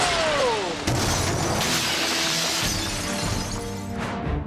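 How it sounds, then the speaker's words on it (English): Glass shatters loudly as a car rams a pane at about 30 mph in a crash test, with a sharp crack followed by a long, dense spray of breaking shards and debris settling, close and without speech. "shattering the glass into thousands of shards"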